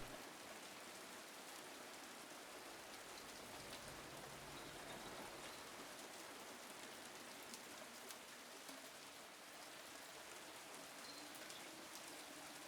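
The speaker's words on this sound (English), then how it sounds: "that rain sound, that ambient storm sound to fall asleep to" Steady rain and storm ambience drumming on a rooftop in Brookhaven, Silent Hill 2 Remake, a dense continuous hiss with scattered drip patter, even and unbroken throughout.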